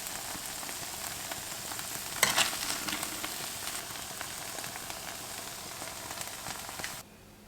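Leftover cheese pieces melt in a frying pan with a soft, steady sizzle and light stirring scrapes, swelling briefly before cutting off at the end, with no talking.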